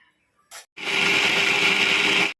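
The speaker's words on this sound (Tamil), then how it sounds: "இது 3 போட்டு நான் அரைக்க போகிறேன்" A mixer grinder grinds soaked coconut, cashews and fennel, a short burst followed by a loud, steady high-pitched whir that runs for over a second and then cuts off.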